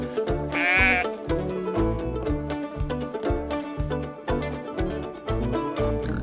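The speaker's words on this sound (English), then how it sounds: "Button laughed with delight as she watched the fluffy sheep nibbling on the grass" A single wavering bleat from a grazing sheep on a farm sounds near the start, brief and fairly close, over a steady, rhythmic musical backing that continues throughout.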